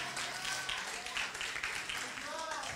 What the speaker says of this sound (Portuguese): Salve de palmas para minha filha, gente.